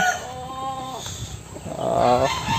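A gamecock rooster crows loudly and close by, a stretched harmonic call that breaks off and then rises again, with a few short clucks between the two crows and no talking.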